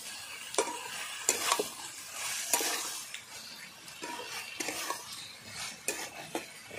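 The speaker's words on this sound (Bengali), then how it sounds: "ভালো করে আমি আদাটাকে কষিয়ে নেব।" Grated ginger sautéing in a pan for a Bengali shukto, with a soft sizzle under repeated scraping stirs of a utensil against the pan.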